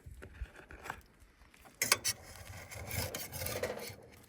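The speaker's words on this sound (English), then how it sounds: "really try to scrape the pan so you can get that crust" Metal utensil scraping a pan to lift the browned crust after cooking snapper, a rough grating rasp in short strokes, louder bursts near the middle, close up.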